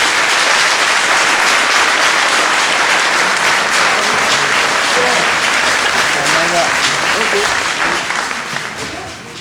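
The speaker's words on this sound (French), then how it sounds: "Allez, on peut applaudir Pascal et Benoît." Dense, sustained applause from a festival audience fills the stretch steadily and only starts to thin near the end, with no talk over it.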